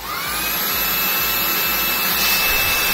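A Xiaomi Dreame V10 cordless stick vacuum runs at maximum suction, giving a loud, continuous high-pitched whine and rush of air from close by with nothing else heard.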